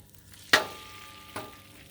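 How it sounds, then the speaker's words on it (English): A metal scraper on a Blackstone griddle during brunch cooking, two sharp scraping clanks about a second apart over a faint background sizzle, close and fairly loud, with no voices. "we'll use our handy scraper"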